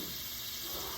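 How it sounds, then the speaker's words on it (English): Steady hiss of steam as Madeira deglazes a hot pan for Tournedos Rossini, a faint even sizzle lasting the whole moment with no talk over it. "deglaze our pan a little bit"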